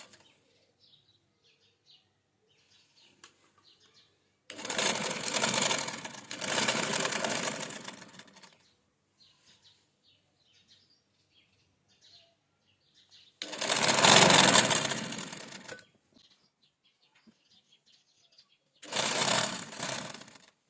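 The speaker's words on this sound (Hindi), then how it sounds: "पहले हम ये वाली सिलाई लगाएंगे जो हमें फिटिंग की सिलाई के साथ लगानी है" A sewing machine stitches a fitting seam on a casual shirt in three separate bursts of loud, fast whirring, each lasting a few seconds, with near silence between the runs.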